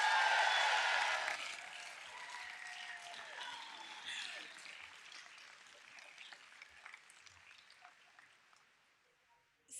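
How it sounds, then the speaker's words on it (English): An audience applauds at a swearing-in ceremony for a Los Angeles County supervisor, loud clapping at first that quickly thins and fades to scattered claps and quiet before a sudden noise at the very end. "Please give a round of applause for Los Angeles County Supervisor Lindsay"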